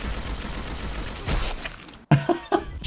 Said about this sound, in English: I'm just gonna shoot these bullets.